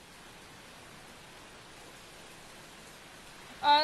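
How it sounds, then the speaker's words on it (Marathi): Heavy rain falls across Worli, Mumbai, as an even, dense hiss that holds steady throughout, ending with a short louder tonal burst. "वरळी परिसरामध्ये आपण जर बघितलं तर पावसाचा जोर हा काहीसा वाढलेला पाहायला मिळतो आहे"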